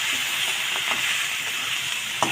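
Bottle gourd (lau) leaves sizzle in hot oil, a steady close frying hiss that holds evenly throughout with a few soft crackles and no voices.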